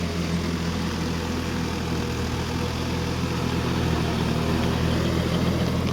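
A John Deere 5050D 4WD tractor engine runs steadily in first gear while working a field, giving a continuous low, loud diesel drone with no pauses.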